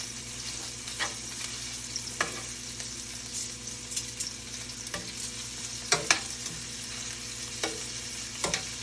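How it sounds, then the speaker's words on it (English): Sausage browning in a pan gets stirred with a spoon or tongs, a steady sizzle and frying hiss underneath scattered clacks and scrapes of the utensil against the pan, with no talking. "So I'm just going to give it a little stir."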